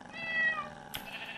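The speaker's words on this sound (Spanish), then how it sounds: "Este pinche gato." A cat meows once in the video game Minecraft with a clear, drawn-out tone, followed by a short thud, against faint game background sound.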